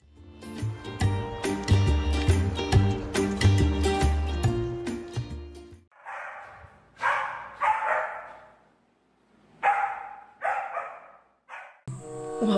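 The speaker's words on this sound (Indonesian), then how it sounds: "Wah benar, ini adalah anjing." A dog barks in several sharp, separate bursts with short pauses between them, loud and close. Loud tonal music plays first, then stops before the barking begins.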